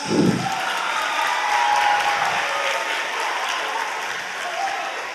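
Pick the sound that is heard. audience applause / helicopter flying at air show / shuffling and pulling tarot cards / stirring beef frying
audience applause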